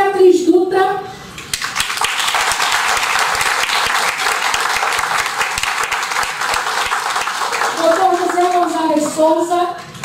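Audience applause greets three columnists at a book launch event. Loud, continuous clapping from a large group of people runs for several seconds and then fades out, with someone talking briefly before and after it.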